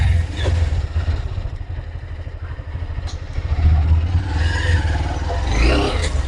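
A motorbike engine starts up and idles with a low, throbbing putter and some clatter, then revs louder as it rides off from a house, with a few higher engine swells near the end.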